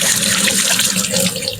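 A kitchen tap runs steadily while hands are rinsed mid-way through breading chicken fried steak, a loud, close, continuous splashing rush with no talk.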